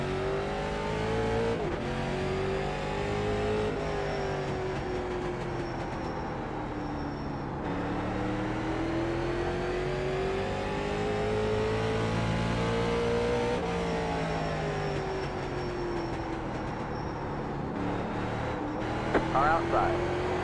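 A late model race car engine in the iRacing sim at Martinsville drones loudly and continuously, its pitch repeatedly climbing under acceleration and dropping off into the corners.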